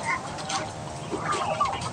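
Chickens clucking at a provincial farm among penned poultry, soft overlapping clucks at close range throughout.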